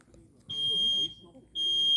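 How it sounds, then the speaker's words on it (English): A smoke detector sounds during a fire demonstration, giving two loud, piercing, shrill beeps about half a second long each, separated by a short gap, over faint background noise. "Smoke detector's already activated."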